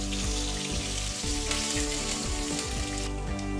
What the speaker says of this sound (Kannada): ಚೆನ್ನಾಗಿ ಫ್ರೈ ಹಾಕಬೇಕು, ಬೆಳ್ಳುಳ್ಳಿ ಗೋಲ್ಡನ್ ಬ್ರೌನ್ ಕಲರ್ ಬರಬೇಕು.